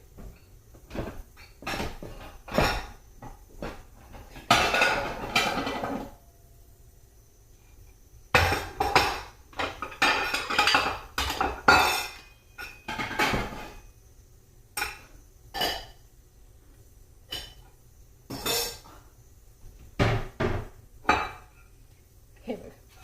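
Metal plate and bowls clatter and clink as they are handled in a home kitchen while misal is made, with irregular bursts of close knocks and scrapes and quiet gaps between them.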